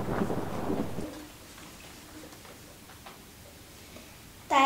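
A thunder sound effect in a told story: a loud rumbling crack at the start fades into a soft, rain-like hiss, and a short sharp sound cuts in at the end.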